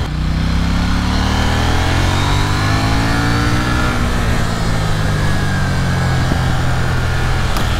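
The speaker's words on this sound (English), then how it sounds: "you even get a nice pop and crackle out of the exhaust on the overrun." A 2021 KTM 890 Duke motorcycle engine runs loud and close, with a continuous droning exhaust note whose pitch sweeps as it pulls under acceleration.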